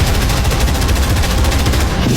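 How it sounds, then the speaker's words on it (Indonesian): Dense, continuous battle noise of mortar and machine-gun fire, rapid overlapping bursts of gunfire and heavy thuds, loud and relentless without pause, depicting the Battle of Ambarawa. "mereka langsung menggempur dengan tembakan mortir dan senapan mesin"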